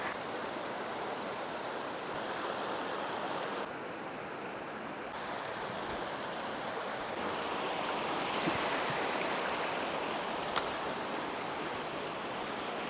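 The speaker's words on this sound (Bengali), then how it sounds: "তুরংছড়া যে নদীর যে বহমান নদী এখানে কিন্তু প্রচুর স্রোত ভাই প্রচুর স্রোত" Fast-flowing Turung Chhara river in Sylhet, swollen after days of rain and running clear from Meghalaya's waterfalls, makes a continuous broad rushing wash of moderate level, steady throughout with no voices.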